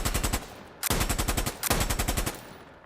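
Machine gun fire from the Insurgency: Sandstorm video game, three loud sustained bursts of rapid, evenly spaced shots separated by short pauses, close and without any talking.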